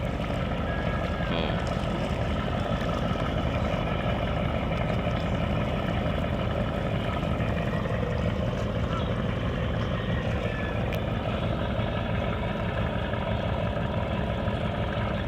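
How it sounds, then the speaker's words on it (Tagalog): A boat engine at a fishing port drones loud and steady for the whole stretch, a constant heavy rumble with no breaks. "ang lakas ng makina niya guys"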